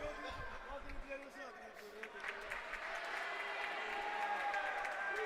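Crowd at a Primera B football match between Asturiano and Platense applauding the player Verdún, a steady swelling wash of clapping and cheering that grows louder, with a commentator talking over it.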